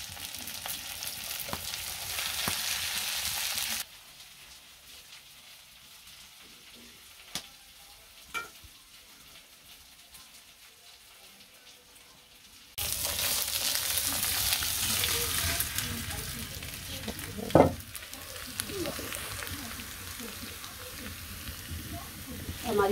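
Onions and green chilies fry in a pan, a steady broadband sizzle that drops quieter for several seconds, then swells back loud with occasional clinks of a stirring spoon.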